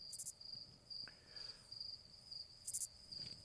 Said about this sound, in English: We need crickets behind my stare.